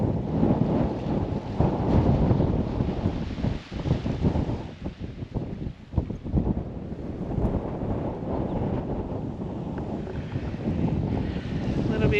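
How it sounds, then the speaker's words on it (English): Strong wind buffets the microphone at a coastal campsite near Winderabandi between Carnarvon and Exmouth, Western Australia, a steady loud roar with gusty swells and brief lulls throughout. "A little bit windy,"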